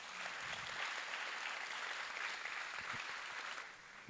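An audience at the Optimist International Oratorical World Championship claps for Optimist club members, a dense, even roar of applause that holds steady and then fades slightly at the end.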